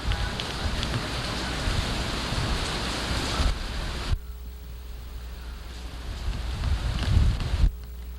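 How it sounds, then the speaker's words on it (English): Heavy thunderstorm rain in June 1994 pours down as a dense, steady roar, loud for the first four seconds, then quieter before swelling again near the end, with no talk over it. "Check out that rain."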